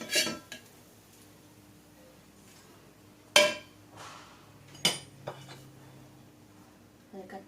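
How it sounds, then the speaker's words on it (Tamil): A dosa being moved onto a plate, heard as a few sharp metallic clanks and scrapes of a spatula against the pan and plate, separated by quiet pauses and close to the microphone. "இதை பிளேட்ல மாத்திக்கலாம்."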